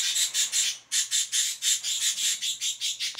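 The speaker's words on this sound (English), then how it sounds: "Crazy birds." Birds in the video game Isekai: Slow Life give a rapid run of about a dozen shrill, rhythmic squawking calls, loud and close, repeating with a brief gap near the start.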